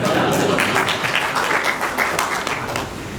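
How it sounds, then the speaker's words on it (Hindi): Audience applause at a comic poetry and humorous writing get-together, a steady dense wash of clapping from a crowd, loud and close throughout, with a voice speaking over it. "आप भले खुल के अपना तालियां मार लें"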